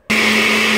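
A blender kicks on abruptly and whirs loudly and steadily, whipping cream into a thick keto whipped topping, its motor whine holding for under a second.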